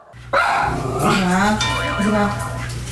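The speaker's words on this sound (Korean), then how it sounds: "제작진이 미용실에 들어서자마자 짖기 시작하는 녀석." A small dog in a hair salon barks loudly and repeatedly at close range in quick, high-pitched bursts, with people talking over it.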